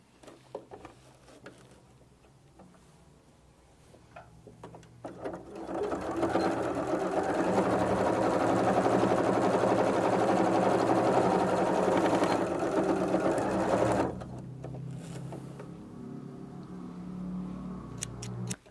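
A sewing machine stitches through the lining layers of a double wallet in one long, loud, steady run of rapid needle chatter, close by, with quieter handling sounds before and after.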